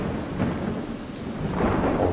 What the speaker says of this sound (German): Hört sich so an, als zieht ein Gewitter auf.